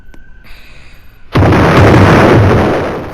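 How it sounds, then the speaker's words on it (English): A bomb blast in the Roblox game Brookhaven: after a quiet lead-in with a faint tone, one loud, sudden explosion bursts and then roars on as a sustained rumble to the end. "They're gonna drop a bomb in there"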